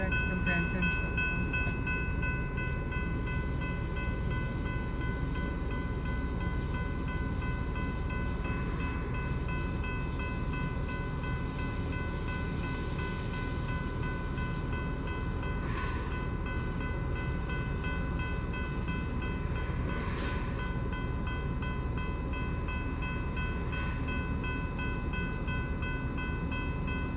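Five-car Metro-North passenger train on a New Canaan line service from Grand Central, rumbling steadily and loudly for the whole stretch, with a faint horn-like tone near the middle.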